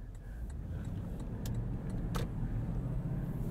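A 2021 Lexus LX570 SUV accelerating, heard from inside the cabin as a steady low road and engine rumble, with a few faint clicks and rattles and no talking.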